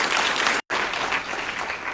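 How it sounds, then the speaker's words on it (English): Audience members at a genocide remembrance ceremony on Shark Island, Luderitz, give sustained applause, a full, even roar of many clapping hands broken by a split-second cut near the start. "Can we also give them a hand of applause?"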